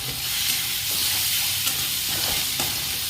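Potatoes and poi leaves frying in a pan give a steady close sizzle and hiss, with a few stirring scrapes and pops rising above it.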